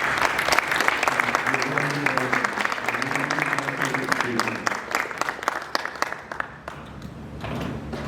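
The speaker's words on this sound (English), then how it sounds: "one more round of applause" Audience applause at a Marin County stakeholder presentation, a steady, dense round of clapping filling the room for about seven seconds before thinning out, with a voice speaking underneath.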